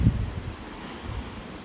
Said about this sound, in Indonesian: Desiran ombak, sesekali angin laut menghembus ke daratan bagian timur Kabupaten Bulukumba